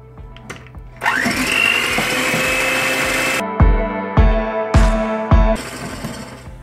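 An electric hand mixer whirs loudly and steadily through chocolate cake batter with flour, then gives several shorter bursts with brief pauses between them, heard close up.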